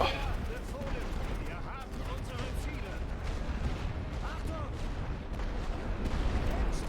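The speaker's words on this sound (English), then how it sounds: "Hopefully this artillery can help me make it to the trenches without getting completely shredded." Artillery fire in The Great War: Western Front video game, a dense, continuous rumble of distant booms and gunfire, moderately loud, with someone talking over it.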